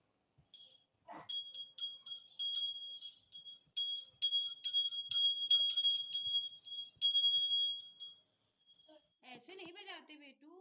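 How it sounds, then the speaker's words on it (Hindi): A child rings a small brass puja hand bell at home, producing a rapid run of bright, ringing strikes close by, then stopping as a voice speaks softly. "चलो घंटी बजाओ।"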